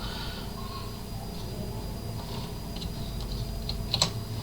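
Computer keyboard keys pressed during Photoshop layer work, a soft scattered ticking of light clicks that ends in a slightly sharper pair, close and quiet, with no voice over it.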